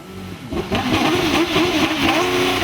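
A 4-litre-class hillclimb race car at Loton Park blasting at full throttle toward the finish, a loud, close, sustained engine roar with rising revs and no voices over it.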